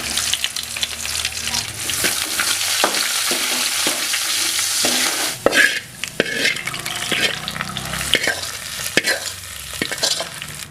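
Mustard seeds, crushed garlic, two dried red chillies and chopped onions sizzle and fry in hot oil in a kadai for tomato rasam, with steady loud crackling and repeated stirring scrapes throughout, no talk.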